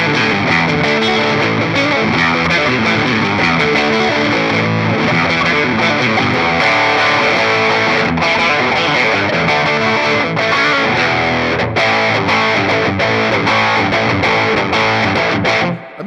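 Electric guitar through a Gristle King overdrive pedal and a Deluxe Reverb amp plays continuously, a thick, crunchy distorted tone with chords and riffs filling the whole stretch, loud and steady, no voices.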